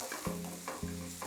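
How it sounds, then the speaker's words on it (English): Sauce bubbles and sizzles in a pan on the stove while a utensil stirs it, giving a close, soft crackle with a couple of rhythmic scraping sweeps. "So check out the simmering sauce here."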